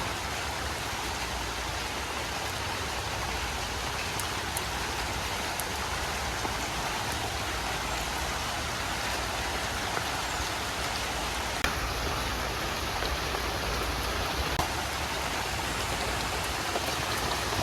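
Steady rain falls throughout on a village garden, a dense even hiss of drops on surfaces with no voices, constant and fairly loud from start to finish.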